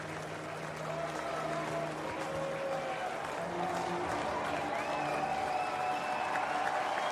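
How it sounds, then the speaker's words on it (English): Broad, sustained crowd noise from fans at a college baseball game between Oklahoma State and Texas, a steady roar with scattered shouts and whistles rising during a full-count at-bat. "Crowd making some noise here."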